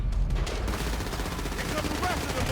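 Gunfire rattles in GTA V during a shootout, a loud burst of rapid shots at the start followed by continued crackling fire and rumble.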